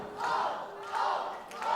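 Wrestling crowd at the ISPW Christmas Chaos show in Butler, NJ, chanting for Bull James: loud, reverberant massed voices rising in three rhythmic swells, alone with no commentary over them.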